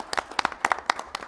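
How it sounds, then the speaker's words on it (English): A few people clapping at a school board meeting, short uneven claps close to the microphone in a small room. "Yeah, you can clap again."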